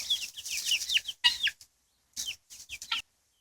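Several chickens, including a broody hen, cluck and squawk close by in short bursts, a busy run of calls, a pause, then another cluster of clucks.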